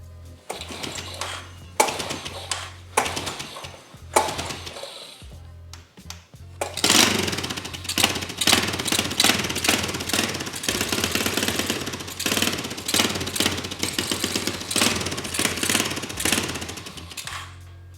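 A 40-year-old Honda four-wheeler engine sputters through a few short cranking bursts, then catches and runs with a loud, rapid, rattling chug that holds steady up close.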